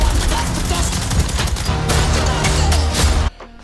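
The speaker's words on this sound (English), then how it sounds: "I know that's not actually what a silenced gun sounds like." Dense, loud bursts of submachine gun fire from a film scene, layered with boomy impacts and cutting off abruptly to near silence at the end.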